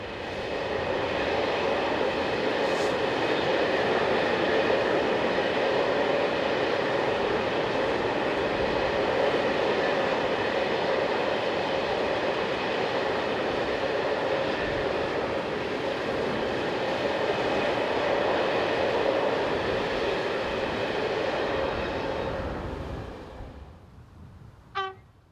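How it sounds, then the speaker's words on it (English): Freight train of stone hauled by locomotive DE6313 heading north, a long steady rumble of wagons and engine passing, fading near the end with a short horn-like tone. "DE6313, heads north with a trainload of stone."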